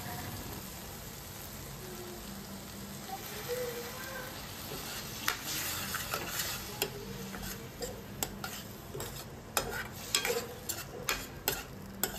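Tamarind pulp is stirred into a cooked masala in a pan, producing faint, uneven scraping and wet clicking taps that grow more frequent toward the end over a soft sizzling background.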